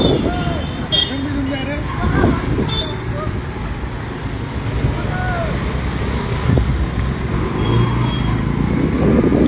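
Heavy road traffic flows past the Porvorim bridge pole work site in Goa, a continuous roar of passing vehicles with wind buffeting the microphone, while people talk over it.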